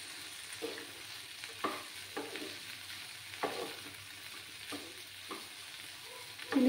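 Cashews and raisins stirred into tomato chutney frying in a pan, with a spoon scraping in steady sweeps about once a second over a soft continuous sizzle.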